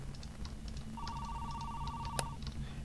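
In the indie horror video game The Apartment, a telephone rings with a steady electronic tone held for over a second, heard over a constant low background hum with faint ticking.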